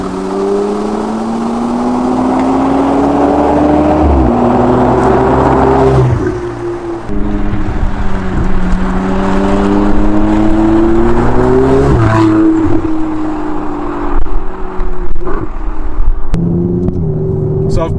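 A Ferrari 488 GTB's turbocharged engine accelerates hard, its loud drone climbing in pitch, then dropping briefly at each upshift as it pulls up through successive gears.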